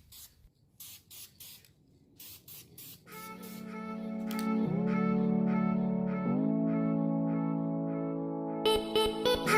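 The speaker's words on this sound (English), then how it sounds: "I'm going to go ahead and start painting this one as well." Short hissing bursts of primer sprayed onto a Nissan 300ZX brake caliper, several quick spurts in a row, followed by a sustained tonal drone that dominates the rest.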